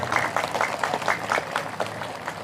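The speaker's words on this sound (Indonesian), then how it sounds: "Tepuk tangan." An audience claps at a speech, rhythmic bursts of hand clapping in a group, moderately loud in a reverberant room, trailing off toward the end.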